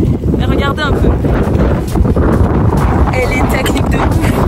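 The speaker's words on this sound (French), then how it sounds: "des fois il y a des rafales de vent, on ne voit plus rien" Strong wind gusts roar across a ski slope, buffeting the microphone in a constant, heavy rush that never lets up.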